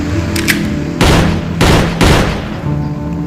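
Several loud, sharp gunshots crack in quick succession inside the video game Sakura School Simulator, a faint pop followed by three heavy blasts close together, with no talking.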